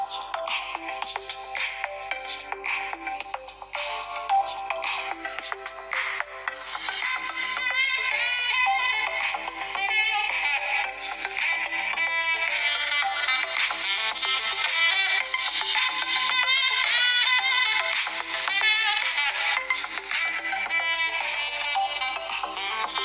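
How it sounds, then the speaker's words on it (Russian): Music plays from the small loudspeaker of a realme NARZO 50i phone at full volume, thin and tinny with little bass, a steady melody running continuously. "Предлагаю вам послушать звук из мультимедийного динамика."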